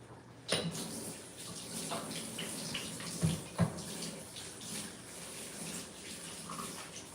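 Water runs steadily from a tap in a home kitchen during baking, a soft continuous splash broken by a few sharp knocks and clatters.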